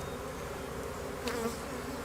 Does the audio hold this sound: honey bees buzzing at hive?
yes